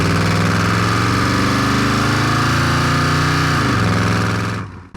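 A 1964 Chevrolet El Camino with a 350 V8 and a mostly aftermarket exhaust rumbles loudly and close, its deep engine note rising and then dropping as the revs fall, before cutting off abruptly at the end.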